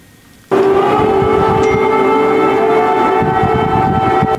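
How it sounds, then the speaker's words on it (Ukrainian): Civil defense air raid sirens wail during a Russian attack in Ukraine, a steady loud tone that starts abruptly after a brief quiet and holds unbroken to the end. "Ніч завершується звуками сирен"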